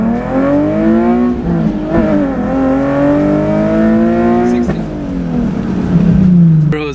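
Straight-piped Nissan 370Z launching from a standstill, a loud raspy exhaust climbing in pitch through repeated gear changes, with shifts marked by brief dips and a final surge, recorded close by.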